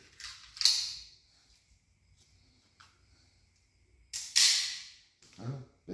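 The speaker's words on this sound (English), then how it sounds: "Let's see what the CCI coppers do." Sharp cracks from a Walther .22 pistol firing CCI copper rounds: two loud shots about four seconds apart, each with a bright ringing tail, then a softer click near the end, with no talking.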